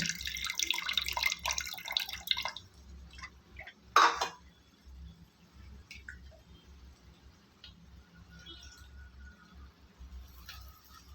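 Tamarind water pours steadily into a mixer jar for a couple of seconds with a brief louder splash, then quieter kitchen clatter and faint drips follow.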